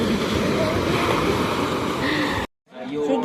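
Surf rolls steadily onto a beach in a continuous broad wash, with wind buffeting the microphone, then cuts off abruptly near the end before faint sounds return.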